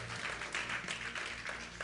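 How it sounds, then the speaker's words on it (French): Audience applause for a speaker named Sam at a talk on mental health, a steady wash of many hands clapping at moderate level for about two seconds, with no voice over it. "Une bonne main d'applaudissement pour Sam."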